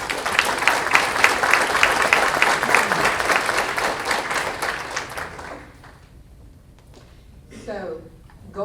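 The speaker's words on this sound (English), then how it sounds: "can we give all of our elected officials just a quick round of applause?" An indoor audience claps for its elected officials at a city address, a dense round of applause that fades out after about five seconds, followed by quieter room noise and a brief voice.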